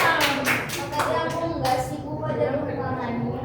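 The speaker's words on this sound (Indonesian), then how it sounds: "Tepuk tangannya." Children in a classroom clap their hands together, a burst of rhythmic sharp claps at first that soon loosens into scattered claps, with a voice chattering underneath.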